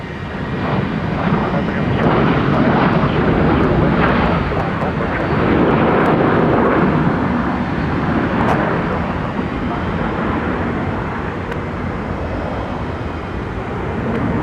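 Airliner inbound from Chicago O'Hare at Minneapolis–St. Paul Airport, a steady broadband jet engine roar that holds loud throughout, with air traffic control radio voices faintly over it.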